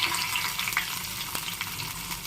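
Green chilies and curry leaves hit a little hot oil with cumin for potato sabudana khichdi, giving a steady, close, bright sizzle that holds evenly before cutting off sharply at the end.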